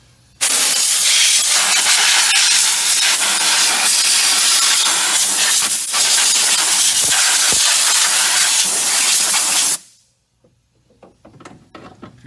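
Compressed air blasting out the spark plug wells of a Ford F150 engine (5.4 or 4.6), a loud, continuous close-up hiss lasting about nine seconds before cutting off, followed by faint handling noises.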